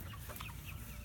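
Hens of a backyard flock cluck softly near their coop, a dense low murmur of fowl sounds with no talking.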